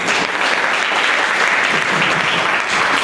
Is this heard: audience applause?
yes